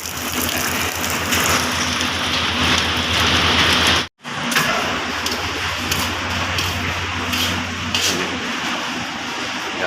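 Heavy rain pours steadily during the rainy Ber months, a dense, continuous hiss of drops drumming on surfaces close by, broken only by a brief dropout midway before resuming just as loud.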